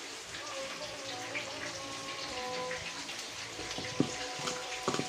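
Boiling water pours from a pot while burger meat is being cooked, making a faint, steady trickling splash with a few soft clunks near the end.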